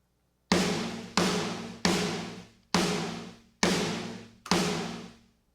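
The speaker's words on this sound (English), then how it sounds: "Got the snare and the room by itself." An EZ Drummer 3 snare heard only through its room ambience, six separate hits spaced about a second apart, each a bright crack with a long washy room decay.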